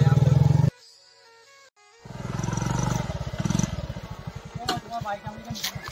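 A motorcycle engine idles, cuts out briefly, then revs up again with a rough, pulsing rumble close by, ending in sharp clatters.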